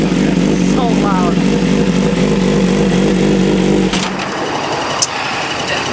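A BMW M1000RR motorcycle engine roars loudly and close with a steady, droning revving tone for about four seconds. It then cuts back sharply to a much quieter background.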